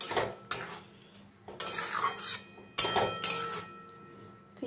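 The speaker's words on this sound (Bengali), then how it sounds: "মশলাটা আলু আর পেঁয়াজের সঙ্গে কষিয়ে নেব।" Spices sautéed with potatoes and onions in a pan over a low flame: bursts of scraping, stirring and gentle sizzling come in several separate strokes, each followed by short quiet gaps.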